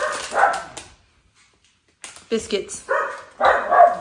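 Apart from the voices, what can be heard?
dogs barking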